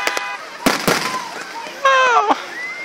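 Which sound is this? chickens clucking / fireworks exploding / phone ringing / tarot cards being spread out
fireworks exploding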